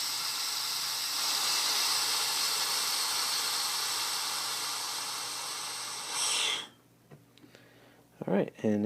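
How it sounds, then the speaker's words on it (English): Steady loud hiss of air bleeding slowly from a vacuum chamber used to stabilise wood slingshot blanks, running for about six seconds before stopping abruptly, followed by faint handling sounds. "we're just going to slowly bleed off the pressure here"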